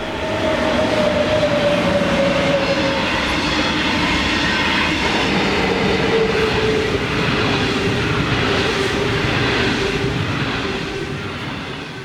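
A heavy coal train of 120 wagons hauled by five diesel locomotives rumbles steadily past with a droning engine, wheel clatter and a faint squeal, loud throughout and easing slightly at the end.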